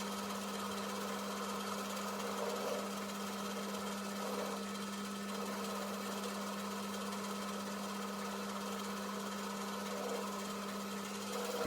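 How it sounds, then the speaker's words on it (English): Metal lathe turning down a shaft for a threaded plunger connector, a steady mechanical whir with a constant hum and faint cutting noise, even and unbroken throughout. "Just carry on turning it down until eventually I get to the correct dimension for the"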